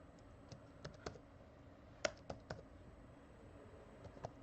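A computer keyboard is typed on at a light, irregular pace, a dozen or so crisp clicks scattered across the stretch, with one sharper keystroke standing out near the middle, close and quiet in a still room.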